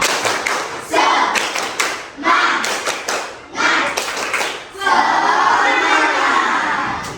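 A group of people, likely a classroom, doing a rhythmic patterned clap in loud bursts separated by brief pauses, ending in a sustained stretch of clapping with some voices.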